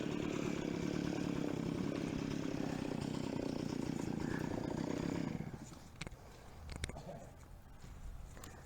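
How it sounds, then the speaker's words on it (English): A chainsaw cutting into a hardwood tree drones loud and steady for about five seconds, then drops off sharply, leaving quieter outdoor sounds and a few faint knocks. "Is that chainsaw dull, or? It's hard wood."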